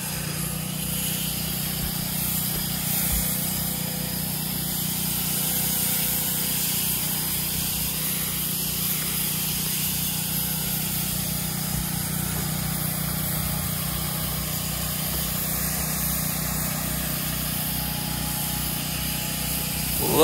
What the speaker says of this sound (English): Look how quickly I'm able to spray this roof and how accurately.